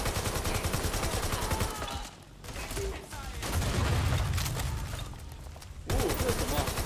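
Weapon gunfire in co-op Watch Dogs Legion: sustained rapid bursts of automatic fire, loud and near, broken by a short lull midway and then resuming, with game noise and a voice faintly underneath.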